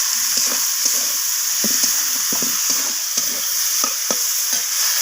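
Vegetables for a sweet-leaning vegetable dal sizzle in a hot pan while a spoon stirs and scrapes in irregular strokes, close and fairly loud over a steady frying hiss, no talking.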